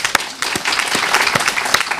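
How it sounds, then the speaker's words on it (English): Audience applause closing a national conference on noncommunicable diseases, a steady dense wash of many hands clapping with a few sharper claps standing out, fairly close and loud, with no talking over it. "I would like to make one more applause to all the teamwork"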